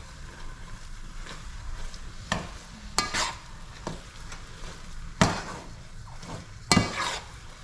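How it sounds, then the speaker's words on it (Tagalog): Latik, coconut curds, stirred in a pan with a spoon scraping and clinking against the metal over a soft low sizzle, several sharp scrapes standing out from the quiet frying. "Tapos magluluto tayo ng latik."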